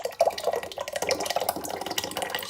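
Pasta sauce glugs from a can into a measuring cup, a wet, irregular stream of splashing and dripping close by, with no talking.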